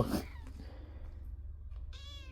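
A single short meow from a stray kitten near the end, fairly close, after quiet rustling and a soft thump at the start.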